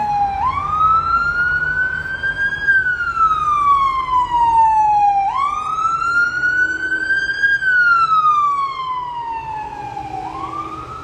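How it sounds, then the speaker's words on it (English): An ambulance siren wails up and down in long rising and falling sweeps, loud and close as it passes by. "I'll let this ambulance go by."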